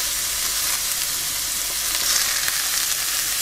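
Chopped celery fries in hot oil in a pan, a continuous bright sizzle that stays loud and close for the whole stretch, with faint stirring underneath.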